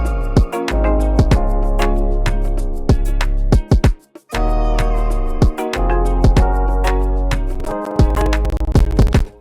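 Chopped vocal cuts pitched up an octave play in an Afrobeat beat, with quick bright syllable fragments over punchy kicks and deep bass, loud and rhythmic, briefly dropping out near the middle.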